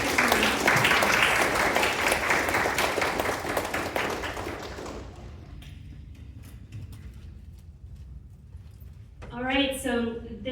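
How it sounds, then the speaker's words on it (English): Audience applause at a symposium pitch competition, a dense burst of clapping for about five seconds that fades out, followed by quiet room tone and then a voice speaking near the end. "Let's give some rounds of applause."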